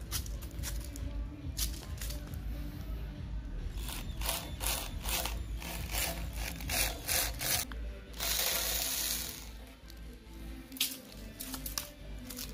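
Power drill spinning steel wire wool inside the exhaust pipe of a Daewoo Matiz/Chevrolet Spark, giving a steady, close, loud rasping scrub with brief changes in pitch and no talking.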